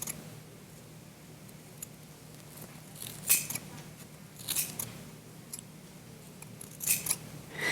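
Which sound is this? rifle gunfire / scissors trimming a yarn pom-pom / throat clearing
scissors trimming a yarn pom-pom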